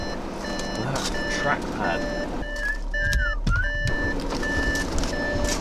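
A car's parking sensor beeps in evenly spaced repeated tones that rise and fall in pitch, heard inside the cabin with engine rumble and a person speaking.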